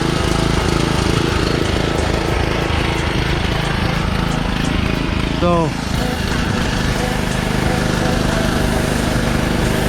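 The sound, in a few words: Karcher K2400HH petrol pressure washer engine running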